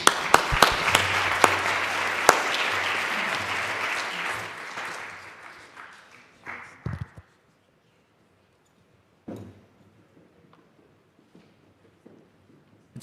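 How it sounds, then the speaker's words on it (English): An audience at a higher education symposium gives a departing speaker a round of applause; dense clapping with a few sharp claps fades over about seven seconds, followed by near silence and scattered faint sounds. "I'll let you go off the stage to a round of applause"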